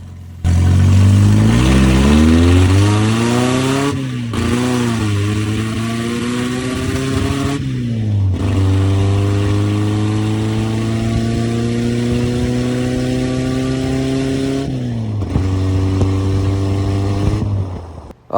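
A 1977 MG Midget engine revs up hard and holds high rpm through several rising pulls, dropping briefly between them, loud and close, with no talking.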